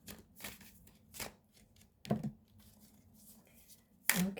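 A tarot card deck is shuffled by hand, with a few soft riffling bursts and sharper card slaps spaced about a second or two apart, close and quiet.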